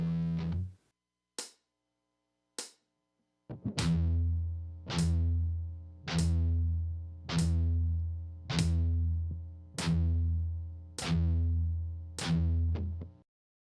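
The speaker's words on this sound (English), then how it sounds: "To get a heavy metal sound, we're picking all of these pedal tones with a downstroke." Heavy metal electric guitar riff with distortion: a few short muted stabs, then a steady run of loud, evenly spaced downpicked palm-muted pedal-tone chugs ringing one after another, alone with no talk.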